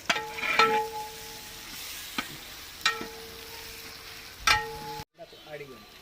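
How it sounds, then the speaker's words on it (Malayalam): Onions softened in gravy sizzle gently with curry leaves in a pan for chicken dum biryani, with a few sharp spoon knocks and scrapes as it is stirred, ending in a brief quieter stretch. "ഇതിനകത്തേക്ക് കറിവേപ്പില ഇട്ട് കൊടുക്കുന്നു നന്നായിട്ടൊന്ന് ഇളക്കി"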